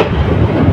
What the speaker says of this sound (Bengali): বলকা কমিউটার ট্রেনটি ফাতেমানগর রেল স্টেশন ছেড়ে যাচ্ছে